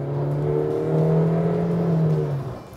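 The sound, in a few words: 2021 Honda CR-V four-cylinder with CVT buzzing under acceleration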